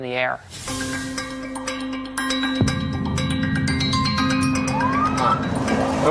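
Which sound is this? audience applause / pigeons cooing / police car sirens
police car sirens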